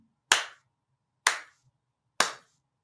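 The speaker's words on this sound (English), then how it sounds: "I applaud. applaud." Three sharp, loud hand claps from a single person, spaced about a second apart, close by with silence between them.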